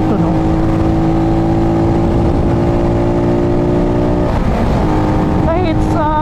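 A Rusi Flash motorcycle engine drones at full throttle on a highway climb, a loud steady buzz with strong wind rush, a brief pitch rise near the end.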